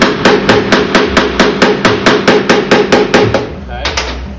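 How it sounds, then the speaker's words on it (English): Quick, evenly spaced hammer taps ring out on a broken bolt stud to loosen it, about a dozen sharp metallic strikes in a steady rhythm, close and loud, trailing off with a couple of lighter hits at the end. "I'm going to take this and tap it with a hammer."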